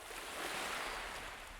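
Ocean waves on the Indian Ocean in the video game Verne: The Shape of Fantasy, a steady, soft broadband wash of surf with wind, quiet and continuous, no voices.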